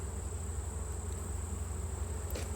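Honeybees drone steadily around an open hive during an October inspection of combined colonies, a continuous low buzz with a faint higher whine, no voices.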